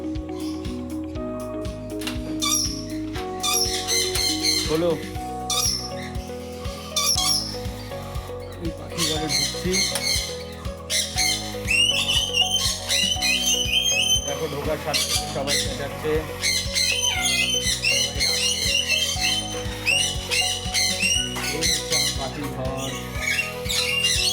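Rainbow lorikeet parrots in a backyard aviary squawking loudly in repeated harsh, shrill bursts, close and busy, layered over background music.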